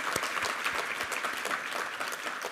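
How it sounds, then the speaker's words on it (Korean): A congregation at a New Year's Eve church service claps together, a brief burst of even, moderately loud applause with no speech over it. "우리 하나님께 감사와 영광의 박수 올려드리겠습니다."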